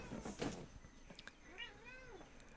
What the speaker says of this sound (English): Cat's very vocal today.